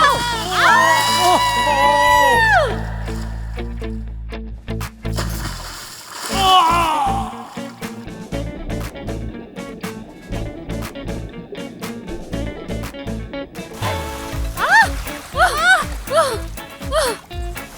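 People splash and thrash in water amid loud shouting and excited voices, with a woman calling out for help; the splashing comes in scattered bursts under the chatter.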